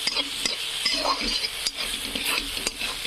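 Roasted masala fries in oil with a bright sizzle as a spoon stirs it, giving a few scraping strokes and light clinks against the pan over a short stretch.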